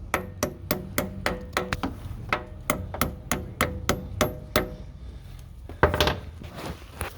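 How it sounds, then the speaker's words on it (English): A hammer gently taps a part during a Subaru transmission install, about fourteen sharp metallic strikes in a steady rhythm, fairly close and loud, then a short burst of clatter near the end. "get your hammer and start tapping it."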